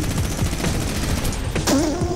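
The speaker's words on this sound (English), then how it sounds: "Whoever's shooting at us, dude." Rapid bursts of gunfire in the video game Fortnite crackle continuously and fairly loud through the whole moment, with no talk over them.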